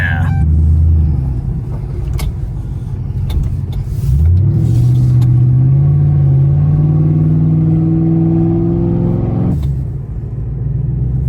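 A big-torque car engine, one that made over 500 foot-pounds when new, rumbles low and steady at close range, its pitch climbing slightly as it revs, with a voice heard over it.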